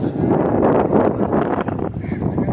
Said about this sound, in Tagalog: Sobrang lakas ang hangin